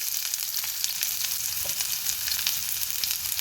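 Constant close sizzle of chopped shallots frying in hot coconut oil with mustard seeds, an even hiss with tiny crackles and no voices.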